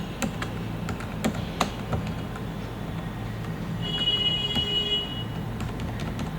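Keys tapped on a computer keyboard while a name is typed into a document, a sparse run of light clicks over steady low room hum with no talking.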